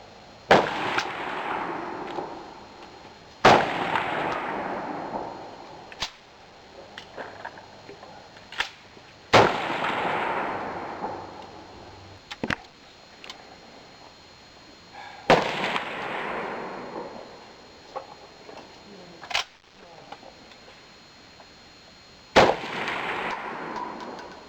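M1 Garand rifle fired in the slow-fire standing stage of a CMP match: five sharp, loud shots spaced several seconds apart, each with a rolling echoing tail, mixed with fainter cracks from neighboring firing points.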